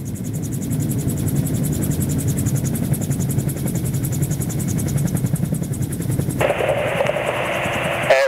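A gyroplane on its landing approach sends out a loud, steady pulsing drone from its rotor and engine, constant and close. Near the end the tone shifts abruptly into a higher buzzing whine.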